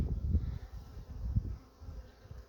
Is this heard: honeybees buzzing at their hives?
yes